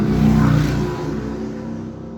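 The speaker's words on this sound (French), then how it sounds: "une moto qui est passée" A motorcycle engine roars loudly nearby and then fades slightly as it passes, a steady rumbling drone with no talking.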